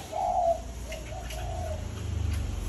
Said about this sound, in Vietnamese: Chào mào nó ăn quả kia hay phết.